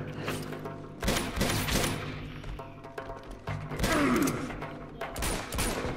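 Bursts of gunfire in Uncharted: The Nathan Drake Collection, rapid fusillades of loud shots with thumps, coming in several clusters separated by brief lulls.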